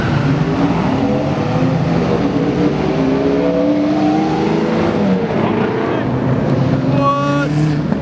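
Dodge Charger accelerating hard at a cars-and-coffee meet, a loud sustained engine roar with rising revs that sweep upward, close and continuous, with people talking over it.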